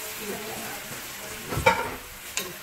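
Chicken biryani sizzles softly in a pan while a spoon stirs it, with a couple of brief scraping clinks near the end.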